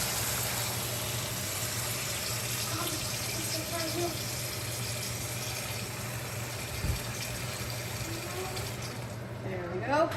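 Water running steadily into a pot for fish soup broth, a continuous close hiss and splash that holds for several seconds, with a brief knock and a shift in pitch near the end as the pot fills.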